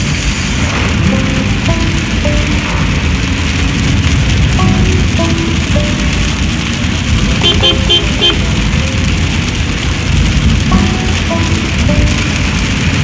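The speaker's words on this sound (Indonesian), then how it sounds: "Sepanjang jalan hujan terus." Steady heavy rain pours down along a road in Palopo, a dense continuous hiss of drops on a surface, with faint passing road noise underneath.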